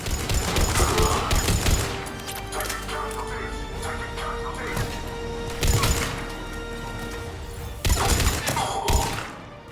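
Gunfire rings out in Mass Effect 3 with sci-fi combat shots and heavy thuds coming in bursts, loudest near the start, middle and end, over a steady hum.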